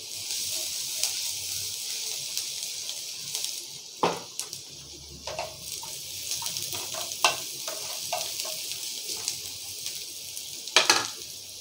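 Chopped garlic and onion sizzle while frying in a pan for an arbi sabzi, a steady close hiss with intermittent scrapes and clicks of stirring against the pan, no talking.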